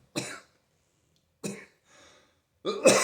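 Separate, dry coughs come from one person at close range, with quiet pauses between them and a harsher double cough at the end.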